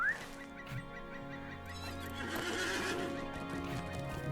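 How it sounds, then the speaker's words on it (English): A horse whinnies loudly in Lord of the Rings Online, a long, wavering neigh over low hoof clip-clops and a steady tonal in-game ambience. "Let's pull the horse out."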